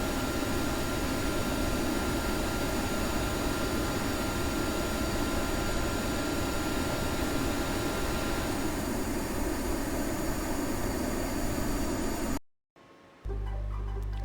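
A YF-23 Black Widow II jet in Kerbal Space Program roars steadily through its takeoff, a loud broadband engine hiss that holds unchanged for about twelve seconds before cutting out abruptly.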